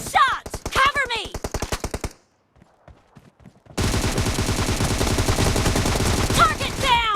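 Rapid automatic gunfire in the battle-royale game PUBG, sharp loud bursts that stop for a near-silent pause of about a second and a half, then resume as a dense, continuous barrage with ricochet-like whines.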